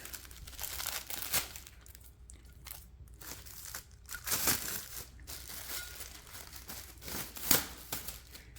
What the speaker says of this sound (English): I want to get it unwrapped real quick